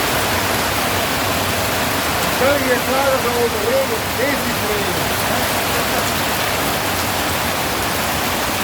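Heavy rain pours down on newly planted trees, a dense, steady hiss filling the whole scene at close range, with people talking faintly under the downpour.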